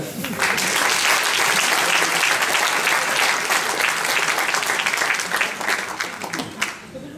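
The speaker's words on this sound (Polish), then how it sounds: "I duże brawa" Loud, sustained applause from a festival audience at the YACH FILM 2009 ceremony, dense clapping swelling quickly and holding for several seconds before tapering slightly.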